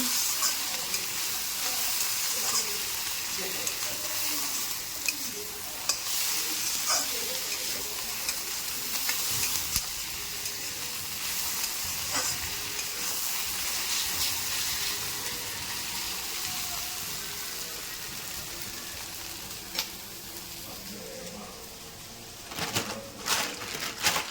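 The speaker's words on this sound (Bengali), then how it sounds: "এখানে ম্যাগি প্রিপারেশন চলছে। এতে গাজর, আলু, ক্যাপসিকাম আর হচ্ছে লঙ্কা আর পেঁয়াজ এগুলো দিয়েছি।" Maggi noodles with carrot, potato, capsicum, chilli and onion sizzle steadily in a pan while being stirred, with a constant close frying hiss, occasional scrapes and faint birds in the background.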